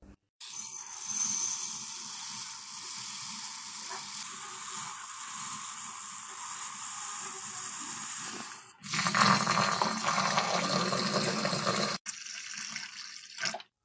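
Basmati rice being washed in water: steady running and sloshing water with splashing, then a louder rushing pour near the end, close and continuous, with no talk.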